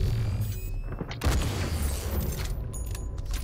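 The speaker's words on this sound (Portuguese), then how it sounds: "Ah, vou meter tiro" Gunfire in Raiders of the Broken Planet, a few sharp shots and metallic clatters against a low, rumbling game background.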